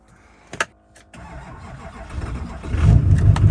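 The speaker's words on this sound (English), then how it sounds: "Lights came on, heard the ignition." A truck engine cranks and catches while jump-started from a portable power pack, a couple of sharp clicks leading into a rough, rising idle that grows louder and fuller toward the end.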